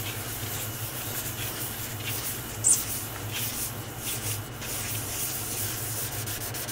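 Cured Stone Coat resin is lightly sanded by hand with a steady, soft scratching rub that repeats in back-and-forth strokes, close by and fairly quiet, with no voices.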